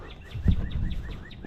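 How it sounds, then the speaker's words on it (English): Birds sing outdoors on a spring farm garden walk, a repeated series of short high chirps in a quick rhythm, moderately distant, over low rumbling background noise. "Isn't that nice bird sounds"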